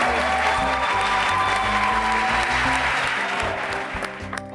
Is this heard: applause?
yes